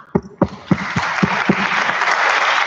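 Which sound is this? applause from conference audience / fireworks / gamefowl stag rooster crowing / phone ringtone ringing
applause from conference audience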